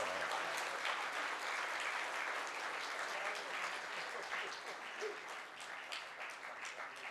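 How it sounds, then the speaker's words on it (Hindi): A lecture audience in India claps steadily in continuous, even applause that tapers slightly toward the end, heard fairly faintly from a distance. "भाई मोहम्मद फैज खान के लिए तालियां कमजोर बजाइए आप लोग।"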